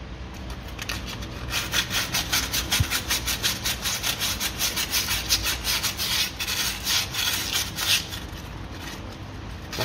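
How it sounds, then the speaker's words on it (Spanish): Rust is being sanded off a Seat Leon wheel hub by hand in quick, rhythmic back-and-forth scrubbing strokes, a close, gritty rasping that holds a steady pace. "le vamos a pegar aquí un lijadito"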